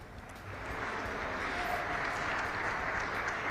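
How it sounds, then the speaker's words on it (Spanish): A large crowd at a business gathering in northern Argentina claps for Sergio Massa, a steady, faint wash of applause heard from a distance. "ahí los aplausos que capaz escuchan son los que está recibiendo Sergio Massa en una reunión multitudinaria de empresarios de acá del Norte Grande"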